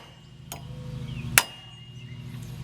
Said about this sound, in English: I'm going to tap it once or twice with this hammer to break it loose